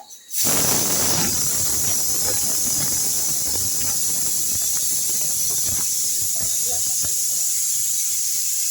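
Banana fritters (kayappam) sizzle in hot oil with a steady, loud, close hiss that runs throughout, with small pops and crackles scattered across it.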